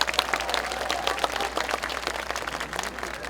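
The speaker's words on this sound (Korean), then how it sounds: "힘찬 박수 부탁드립니다." A crowd applauding at an outdoor Democratic Party campaign rally for candidate Lee Jae-myung at Geumneung Station in Paju, brisk dense clapping at a steady level from start to finish.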